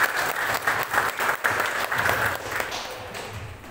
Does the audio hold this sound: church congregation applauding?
yes